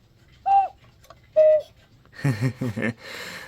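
Two distinct two-note cuckoo calls sound from a Regula cuckoo clock, followed by a few whirring, breathy bellows puffs and mechanical rustling.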